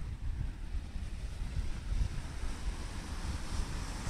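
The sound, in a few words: wind blowing at an outdoor recording spot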